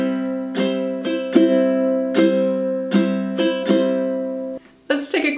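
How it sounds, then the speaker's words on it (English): A ukulele strummed in a down, down, up, down pattern in a beginner lesson, with bright, evenly spaced chord strokes ringing close and clear, ending with a couple of quicker scratchy strums. "Our second strumming pattern for this song sounds like this."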